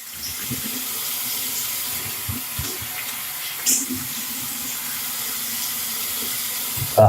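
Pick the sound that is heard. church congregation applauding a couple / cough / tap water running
tap water running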